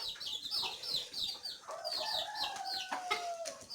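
Native hens cluck and murmur softly inside a coop, a busy overlapping chorus of short calls at moderate distance with a few longer drawn-out notes.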